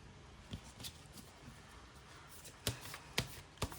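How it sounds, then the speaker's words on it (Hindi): Tarot cards shuffled and drawn by hand: soft faint riffling early on, then three crisp, separate card snaps or slaps toward the end, quiet and close with no voice. "अब हम कुछ और कार्ड्स लेते हैं"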